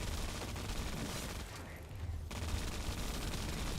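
Dense video game boss fight clamor, a continuous barrage of explosions and gunfire-like bursts layered loudly throughout, with a brief dip in intensity midway before the noise resumes.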